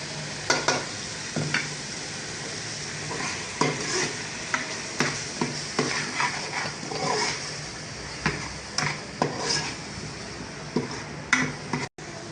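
Ground green chillies and spices sizzle in hot oil for a fish fry while a spoon stirs the pan in repeated scraping strokes, with a steady frying hiss between them and no voices.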